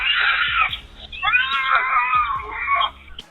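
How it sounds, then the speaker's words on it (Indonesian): A trapped, injured cat screams loudly in two long, harsh wails with a short gap between them, close and strained. "jeritan kucing yang tertangkap terdengar jelas"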